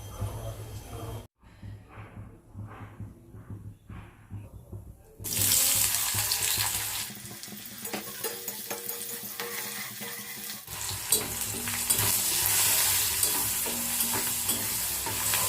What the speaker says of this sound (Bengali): চলো একটুখানি চিড়ে ভেজে নিই